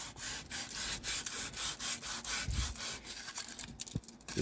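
Aluminum foil rubbed back and forth on rusty chrome, a close, steady, rhythmic scrubbing rasp of about a dozen quick strokes with no voices.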